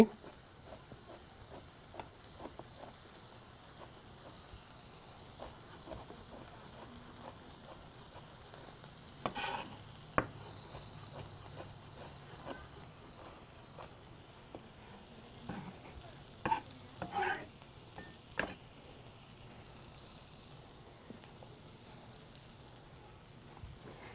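Chicharrón frying in a pan with onion and garlic gives a soft continuous sizzle with scattered crackles and pops, plus a few louder utensil clicks and scrapes, no voices.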